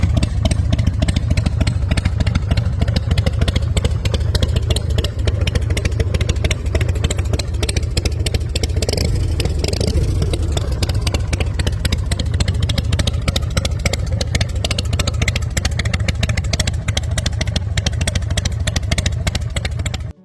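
A 2005 Harley-Davidson High Roller custom cruiser motorcycle engine runs steadily and loudly up close for the whole stretch, a dense low rumble with clattering mechanical texture and no voices.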